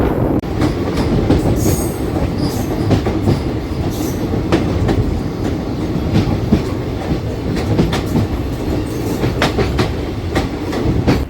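A diesel DEMU train rolls steadily along rails between Secunderabad and Siddipet with a continuous heavy rumble and repeated clickety-clack of wheels over joints, close and fairly loud.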